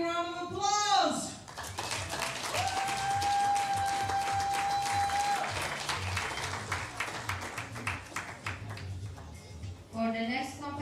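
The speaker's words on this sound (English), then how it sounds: "Let's hear you, 1 big round of applause." A crowd at a women's air rifle shooting competition applauds in a dense, sustained wash of clapping that gradually thins out, with a voice speaking before and after.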